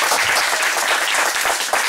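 An audience at a conference on bachata music, hosted by the Dominican Republic delegation to UNESCO, gives a brisk round of applause, dense clapping that stays even and close throughout.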